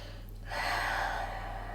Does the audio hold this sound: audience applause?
no